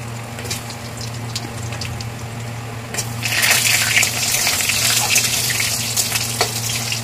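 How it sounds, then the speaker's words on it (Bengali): Potatoes frying in a pan with cumin, a steady low hum that gives way after a few seconds to a loud, bright, continuous sizzle close up. "আলু সামান্য কিছু সময় একটু ভেজে নেব।"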